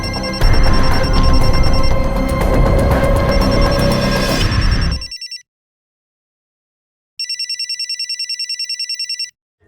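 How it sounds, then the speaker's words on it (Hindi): A mobile phone rings loudly and continuously for about five seconds, falls silent, then rings again in a rapid pulsing burst of electronic tones. "अरे तू फोन लाई है क्या? मैं तो फोन नहीं लाई. तो मेरा भी नहीं बज रहा है. तो किसका बज रहा है?"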